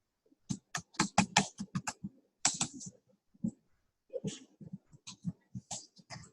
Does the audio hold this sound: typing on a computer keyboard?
yes